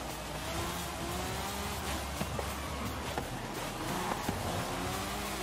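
A Forza Horizon 5 race against a Mercedes CLK GTR, engines droning and revving steadily and loud with road noise, brief higher whines and tire sounds rising now and then.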